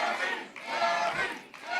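A large crowd at an America First political rally cheering and yelling loudly and continuously, a dense wall of voices close up.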